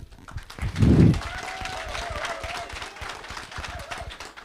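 Brief applause breaks out from the audience at the African Climate Summit during an intergenerational dialogue, a short burst of clapping followed by a lingering room murmur.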